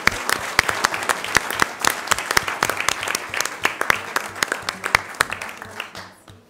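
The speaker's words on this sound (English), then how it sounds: "So let's give a round of applause to everyone." A school board meeting audience gives a round of applause, with dense, steady clapping from many hands filling the room for several seconds before tapering off at the end.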